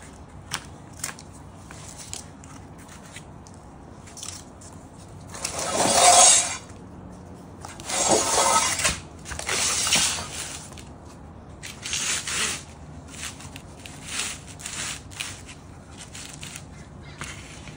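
A hand saw cuts wood for a step stool, heard as several loud rasping strokes in bursts near the middle, with quieter scraping and handling around them.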